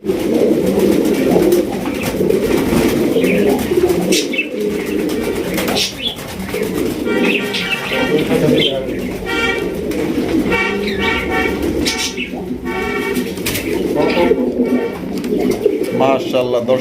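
Racing pigeons coo repeatedly in a dense flock, soft throaty calls layered with someone talking throughout and brief bursts of other noise.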